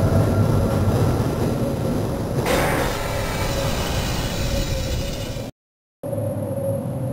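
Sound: train arriving in a video game

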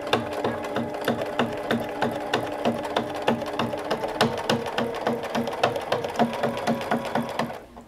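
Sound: sewing machine stitching fabric

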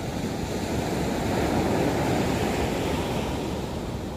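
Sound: big ocean waves breaking on Nha Trang beach

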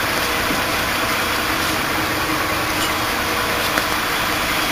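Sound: stationary city buses idling with engines running

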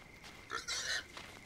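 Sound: pig sound in the video game Force of Nature 2

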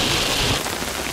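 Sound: heavy rain

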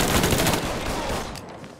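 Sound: gunshots in the video game Mafia 3

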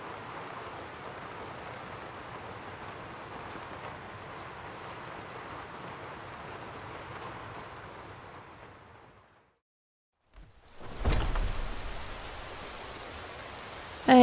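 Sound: rain falling, from a video game

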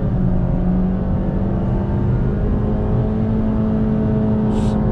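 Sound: Honda City 2020 petrol CVT engine accelerating in sport mode

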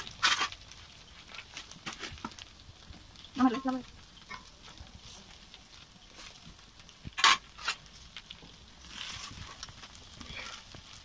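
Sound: black cumin tempering sizzling in hot oil

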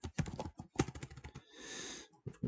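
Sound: typing on a computer keyboard

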